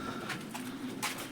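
Pigeons coo at a pigeon farm in Kuwait, giving a short, soft murmur of coos with a few brighter rustles or flutters mixed in.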